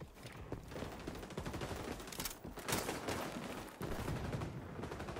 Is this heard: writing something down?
no